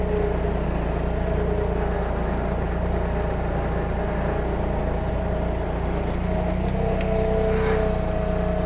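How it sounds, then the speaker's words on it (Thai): A Yanmar AC18 crawler tractor's engine drones steadily with light revving as the machine turns, a continuous low rumble throughout with no talking. "อันนี้เร่งเครื่องเบา ๆ นะเร่งเครื่องเบาๆขับง่ายๆนะครับ"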